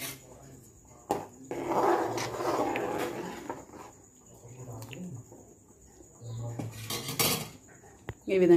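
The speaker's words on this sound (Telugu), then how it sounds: "ఈ విధంగా మిక్స్ చేసేసుకొని ఇప్పుడు రవ్వని యాడ్ చేసేసుకోవాలి." Wheat semolina is stirred into a pan for upma, with metal clinks and scraping of a utensil against cookware coming in intermittent close bursts over quieter background noise.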